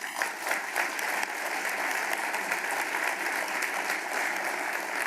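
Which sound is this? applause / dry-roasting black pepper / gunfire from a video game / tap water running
applause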